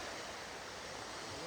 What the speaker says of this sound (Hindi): जो आवाज़ होती है ना झरने की, वो एकदम सुकून पीस देती है।